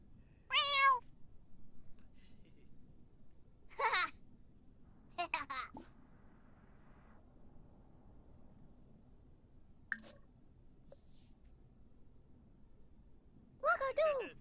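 A cat meows in several separate, clear bursts spread out over a quiet background, with soft faint rustles between the calls.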